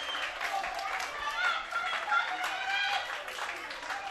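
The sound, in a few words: baseball cheering section cheering loudly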